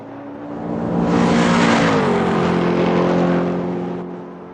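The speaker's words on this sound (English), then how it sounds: "We're going to be driving the Porsche 963 Hypercar LMDH class, and we're at Spa Francorchamps" Porsche 963 Hypercar LMDH racing at Spa Francorchamps in Automobilista 2 roars up loudly, holds a high-pitched engine scream, then shifts down and fades slightly as it pulls away.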